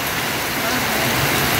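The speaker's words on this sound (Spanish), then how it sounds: "y aquí está la lluvia" Heavy rain pours down and beats on roofs during a severe storm, a dense continuous hiss and patter heard up close and alone throughout.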